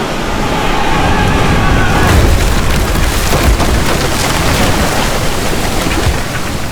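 In Expeditions: Rome, a ship rams another vessel, a heavy, roaring crash of splintering impact and rushing water that swells and holds as a loud, broad, continuous wash of noise.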